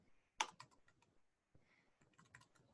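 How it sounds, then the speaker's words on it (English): Fingers tap a computer keyboard in two short runs of quiet, quick keystrokes, close but faint, with a brief pause between bursts and no talking. "we're going to type in our name"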